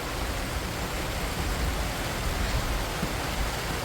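Sudden heavy rain pouring down outdoors, a dense steady hiss of downpour filling the whole stretch with no talk.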